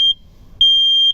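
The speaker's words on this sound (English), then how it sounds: "Since I got the heater, I also got this smoke and carbon monoxide alarm. Gotta have that. Let's make sure it still works." A combination smoke and carbon monoxide alarm sounds two loud, piercing electronic beeps during a test. A short chirp comes first, then a sustained half-second tone after a brief gap, with no voices.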